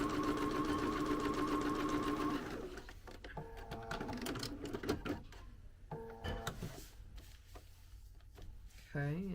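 A home sewing machine runs steadily while stitching straight lines on fabric oven mitts, then gives way to quieter handling, clicks and brief bursts of machine noise, with a voice speaking partway through.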